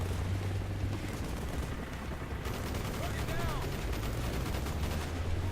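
Gunfire rings out in the Black Ops single-player campaign, a dense, steady barrage of rapid shots and blasts running throughout at constant loudness, with a voice talking over it.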